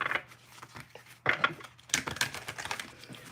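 Tarot cards from an Akashic Tarot deck being shuffled by hand, giving quick papery riffles and soft card taps in three short bursts, close and fairly quiet, with no talking.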